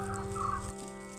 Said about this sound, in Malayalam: എവിടെ നോക്കിയാലും കോഴികൾ കോഴികൾ കോഴികൾ.